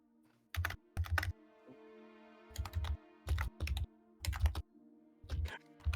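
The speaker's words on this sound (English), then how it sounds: "Just typing." Keystrokes on a computer keyboard come in quick clustered bursts with short pauses between them, close and clear over a faint steady hum, with no talking.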